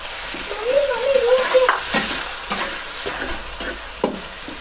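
Sliced onions hit hot oil in a kadai and sizzle steadily, with a spoon scraping and stirring now and then; the frying is close and fairly loud, holding a constant hiss throughout.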